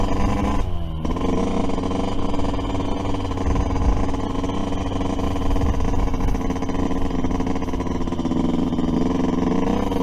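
A Yamaha YZ125 two-stroke dirt bike being ridden on a groomed motocross track, engine droning steadily and loudly throughout from close by with a brief rev change near the start, no talk.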